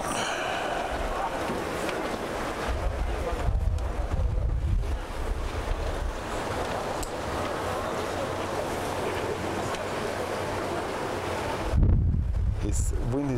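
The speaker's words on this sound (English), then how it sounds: "Wind is a little bit picking up at the moment" Wind gusting across open water at a 49er sailing race on Lake Garda, a steady broadband rush with boat and water noise, loudest in a stronger gust near the end, under a speaking voice throughout.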